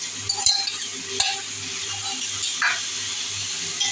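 Bitter gourd fried earlier is stirred together with a spice mix and sautéed cubed onions in a pan, giving steady scraping and soft sizzling with a few sharp utensil clinks against the pan.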